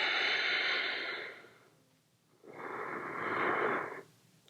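Deep breathing during a yoga session: two long, loud breaths, a sustained airy exhale fading out, a short pause, then another steady breath, close and alone with no talk.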